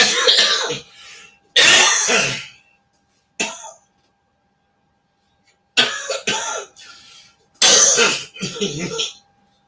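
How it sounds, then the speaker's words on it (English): A weed smoker coughs hard in several harsh, ragged bursts with short silent gaps between them, sounding close, like fits of coughing and choking. "Now, you see how I be coughing like a motherfucker, choking like a motherfucker"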